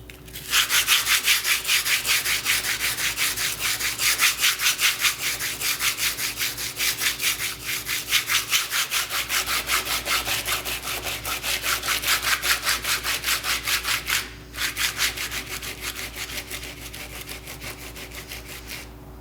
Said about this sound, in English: going back and forth with the sanding